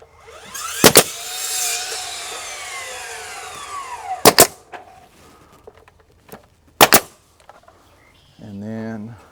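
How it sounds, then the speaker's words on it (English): A nail gun drives nails into LP SmartSide board-and-batten siding, firing three sharp, loud single shots spaced a few seconds apart. A mechanical whine and a short rattle sit between the shots. "now I can start my nailing process"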